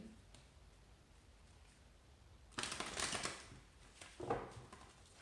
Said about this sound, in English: these cards are a little bit hard to shuffle.